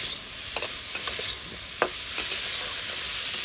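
Spice masala stir-fried in oil for an aloo fish curry, a steady close sizzle broken by several sharp scraping strokes of a utensil against the pan, with no voices.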